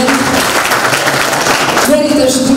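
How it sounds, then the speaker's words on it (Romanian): A crowd at a Romanian National Day children's show claps continuously, a dense, loud wash of applause with a voice speaking faintly over it near the end. "Merită și dumneavoastră aplauze alese"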